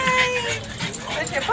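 A French bulldog whimpers and yips in excitement, close by in short bursts, with people talking over it much of the time.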